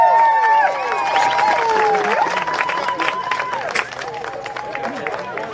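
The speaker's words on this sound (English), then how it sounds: "Give him a big round of applause." Tournament crowd at the AMCF Open applauding the fourth-place team, Vanguard from Southern California: sustained clapping and cheering with sliding whistle-like tones over it, fading slightly toward the end.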